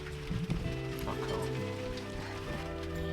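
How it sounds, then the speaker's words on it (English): Hail pattering steadily on the roof of a narrowboat, a dense continuous rattle heard from inside the cabin, with a faint voice or low background noise beneath it. "but it's hailing."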